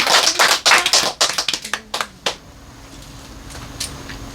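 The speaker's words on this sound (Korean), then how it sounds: "우리 하나님께 영광의 박수 올리겠습니다." Church congregation applauding together, a dense burst of clapping that breaks into scattered individual claps and fades out after about two seconds, leaving a faint room hum.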